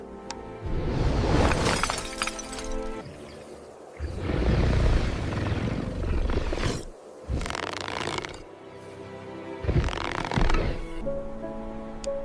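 Bursts of glass shattering and crashing debris come in several loud waves, separated by brief pauses, with no voices.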